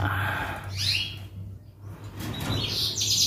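A canary sings nearby in short high chirps and trills, with a steady low background hum underneath and no talking.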